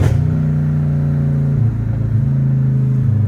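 A straight-piped Dodge Hellcat Redeye accelerates hard, its loud, deep engine roar climbing steadily in pitch, then dipping briefly at a gear change before rising again, close and continuous with no talk.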